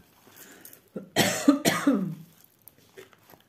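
A woman coughs a few times close up, two harsh bursts in quick succession followed by a softer throat-clearing rasp, then quiet.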